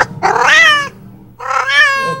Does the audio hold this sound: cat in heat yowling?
yes